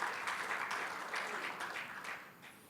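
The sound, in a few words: applause in a church service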